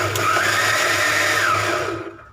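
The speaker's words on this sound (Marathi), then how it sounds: "आता आपण हे ब्लेंड करून घ्यायचं आहे फिरवून घ्यायचं आहे" A kitchen blender runs continuously while blending mango lassi, a loud close whirring drone with a slight rise and fall in pitch that fades out at the end.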